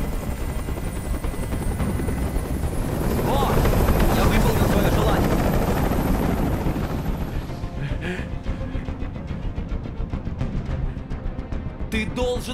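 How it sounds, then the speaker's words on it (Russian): In the video game Detroit: Become Human, a hovering helicopter throbs loudly with steady rotor chop, swelling near the middle before easing off as other sounds break in toward the end. "Как же меня бесит этот звук! Прикажи им, чтобы вертолет убрался!"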